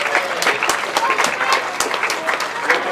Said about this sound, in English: another round of applause as they leave the podium, ladies and gentlemen